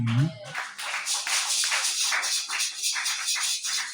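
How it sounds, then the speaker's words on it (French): Applause from a church congregation after a scripture reading, a close, brisk burst of many hands clapping that runs steadily after a brief spoken word at the start. "Applaudissez pour la lecture"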